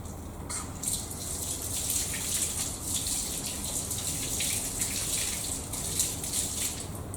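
Tap water runs steadily into a sink while a paintbrush is rinsed beneath it after washing-up liquid and white spirit, a continuous close gushing hiss with no voices.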